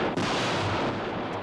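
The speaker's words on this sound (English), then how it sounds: "shots of the Joe's jet in the sky as the explosions are going off around it" Explosions burst around a jet in the sky in the Joe 90 episode Attack of the Tiger, a dense, continuous roaring blast filling the brief moment, loud and close with no talk.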